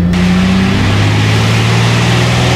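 A T-34 Mentor aircraft engine roars loudly and steadily at close range during takeoff power, a dense continuous drone with no voices.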